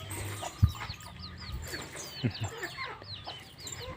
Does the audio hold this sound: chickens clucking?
yes